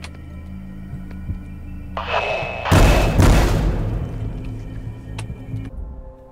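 Explosive ammunition blasting in the shooter Forgive Me Father, a couple of heavy booming thuds in quick succession after a brief hiss, loud and close over a low game rumble.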